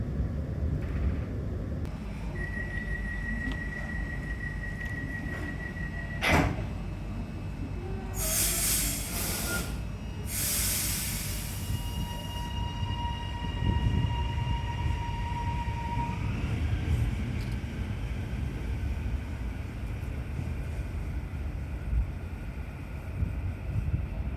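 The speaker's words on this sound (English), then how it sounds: "let's depart East Pakenham Station towards Pakenham Station on a train" A train departs East Pakenham Station with a steady rumble and hiss, wheels squealing in long, high tones and brake air bursting partway through, heard from inside.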